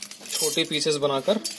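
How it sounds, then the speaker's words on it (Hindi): Dried, processed eggshell pieces clink together in a container before being ground in a kitchen spice mixer. The light, brittle clinking is faint and sits under steady talking. "इसमें जो खनक है इसकी खनखनाने की आवाज़ आप सुन सकते हैं।"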